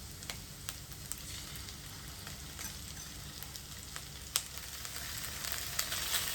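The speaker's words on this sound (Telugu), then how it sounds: "ఇప్పుడు మనం ప్రాన్స్ అవి వేసేసుకుందాము." Prawns sizzle steadily in a hot pan for schezwan garlic shrimp, a dense continuous frying hiss with a few sharper crackles and pops throughout, close and fairly loud, no voices.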